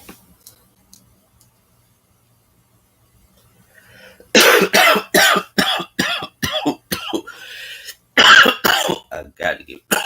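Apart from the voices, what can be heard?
coughing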